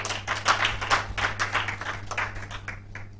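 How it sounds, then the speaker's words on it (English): Applause from an audience at an awards ceremony and digital activism report launch, a dense burst of steady clapping that holds for a few seconds and then thins out gradually toward the end. "A round of applause."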